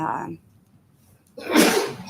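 A single sharp sneeze bursts out near the end after a brief quiet pause, preceded by a short voice fragment, in an indoor meeting of a historic preservation commission.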